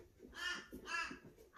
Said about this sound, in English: Crows calling outside.